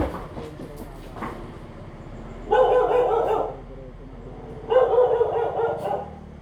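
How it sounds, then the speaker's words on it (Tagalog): Two bursts of dog barking, each about a second long, rise over a steady low background hum. One comes early, one near the end. "Papansin na aso eh."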